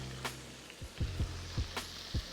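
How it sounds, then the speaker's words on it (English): White wine hits a hot pan of lemon garlic butter lamb chops, producing a steady sizzle with a few soft bubbling pops, heard close up with no talking. "We'll deglaze with a little bit of white wine."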